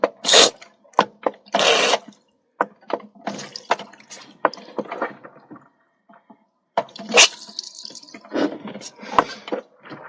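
Water draining out of a Nissan X-Trail fuel tank, irregular splashes and gurgling spurts close by, coming in uneven bursts with short quiet gaps between them.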